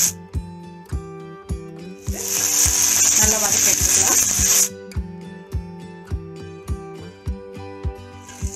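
Chopped medium onion tossed into a pan of hot oil with whole spices, a loud broadband sizzle that bursts up for about two and a half seconds before cutting off, over steady background music.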